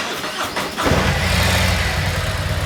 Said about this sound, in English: We're going to go ahead and start the bike.